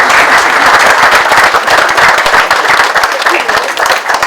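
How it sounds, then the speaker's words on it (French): Loud, dense applause from an audience at an embassy of Chad reception, continuous clapping close to the microphone with crowd murmur blended in. "Et donc je voudrais que vous les applaudissiez pour les efforts qu'ils font."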